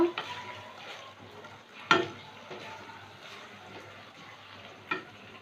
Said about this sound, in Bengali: একটু নেড়ে চেড়ে সসটা মিশিয়ে নেব